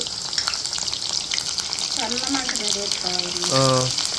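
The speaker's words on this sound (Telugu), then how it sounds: "కాకరకాయలు అయితే వేపేసుకోవాలి మంచి రంగు వచ్చే వరకు" Bitter gourd slices frying in plenty of oil, a steady bubbling sizzle running throughout, with brief tonal clinks and whistling tones near the end, no talk over it.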